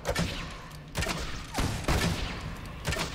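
Gunshots in the Fable 2 action game, a rapid series of loud cracking shots and thuds in close succession, fairly near and dominant with no talking.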